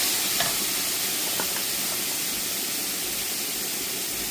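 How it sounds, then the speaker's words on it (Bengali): Bitter gourd (ucche) cooks in a pan with a constant, fairly loud hiss and sizzle, with a couple of faint clicks early on and no voices. "এবার উস্তাটা ভাজি করে নেব। দিয়ে দিলাম, প্রথমে দিয়ে দিলাম আমি উস্তাগুলো"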